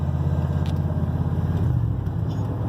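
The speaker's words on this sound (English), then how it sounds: "See how it just revs up and then jumps?" A car engine with a 700R4 automatic transmission that has trouble shifting drones loud and close, holding a fairly steady pitch through the short stretch.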